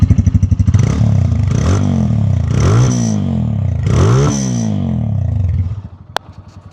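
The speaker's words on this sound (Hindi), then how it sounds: "उसके बावजूद आपको एक छोटी सी पटर पटर वाली साउंड एक एग्जॉस्ट से मिलती हुई अगर आ रही है" A Lifan K19 single-cylinder cruiser motorcycle idles loudly up close with a steady thumping exhaust putter, revving up several times in rising and falling surges before the engine is cut and it goes quiet.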